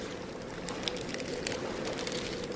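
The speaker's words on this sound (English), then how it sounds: "The water starts to boil." Water boils inside an electric kettle, giving a steady, moderately loud rushing and bubbling hiss with faint crackles and no voices.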